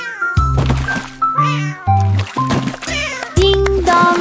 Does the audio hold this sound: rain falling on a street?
no